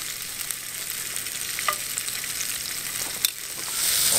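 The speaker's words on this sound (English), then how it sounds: "So now I'm gonna go ahead and just heat these up and cook them and brown them." Sausage browning in a hot pan, a constant bright sizzle with a couple of faint utensil taps, growing a little louder at the end.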